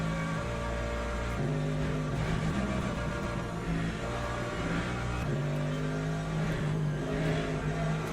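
A race car engine in the video game Le Mans Ultimate holds a high, buzzing drone with stepped pitch shifts, loud and continuous, like revving or shifting through gears.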